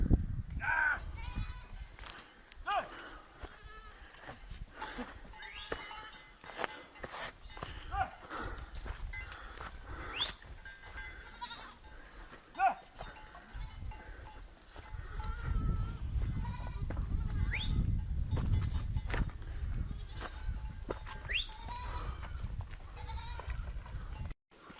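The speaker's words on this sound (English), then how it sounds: "We got goats downstream." Several goats bleat intermittently near and far in a canyon by a river in Baja California, Mexico, with hoof clatter and rustling, and the rushing stream swelling in the background partway through.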